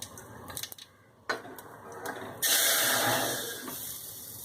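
Toor dal is tipped into a pot of hot tempering for Malvani-style sweet godi dal, starting with a few clinks and taps, then a sudden loud, broad sizzle that rushes up and holds steady close by.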